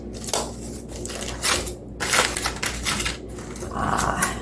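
Foil or wrap being peeled and crinkled off a chuck roast after an hour of resting, with bursts of loud, crackly rustling coming in uneven waves, close up, and no voices.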